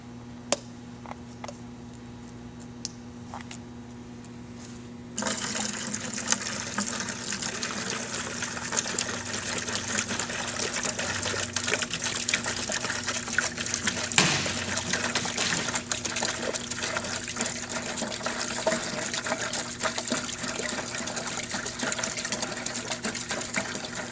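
Pump running water into a bucket holding red lime: quiet clicks first, then an abrupt, steady gushing rush of liquid filling the bucket that continues loud and constant to the end.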